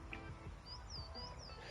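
Birds chirp faintly outdoors near residential gardens, a few thin high tweets and short whistled calls sitting over a quiet, steady background hum.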